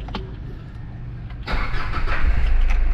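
A 2010 Ford Everest diesel engine cranks briefly, then catches and fires into a loud, steady idle that runs to the end.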